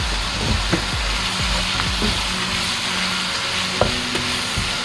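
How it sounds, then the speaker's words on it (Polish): Sauce with three spoonfuls of sugar sizzles loudly in a pan while being stirred for a preserved green bean dish, a constant frying hiss broken by repeated scraping strokes of the spoon across the pan. "Oczywiście mieszamy."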